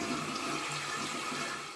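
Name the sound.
toilet flushing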